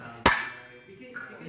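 A single sharp clack of fencing blades striking in a poorly executed beat, close and loud, then a quiet room.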